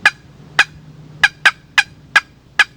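Wooden box call with a chalked lid whacked against its edge gives excited hen turkey cutting: seven sharp, loud clucks in an irregular, quick rhythm, close and alone.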